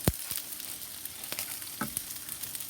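Corn cooking in a pot and being stirred, a low continuous sizzle broken by a few sharp scraping knocks of the spoon against the pot, close by with no talking.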